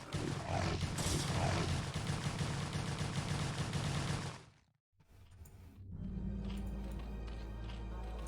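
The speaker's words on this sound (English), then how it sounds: "We can see that they are target firing the drones" Units firing on drones in a StarCraft: Brood War Remastered match, a dense loud stream of rapid attack and gunfire sounds that briefly cuts out before resuming more steadily.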